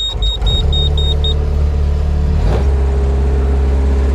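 A skid steer engine runs close by with a steady low rumble. A high beeping sounds at the start, a brief thump comes midway, and the drone stays even throughout.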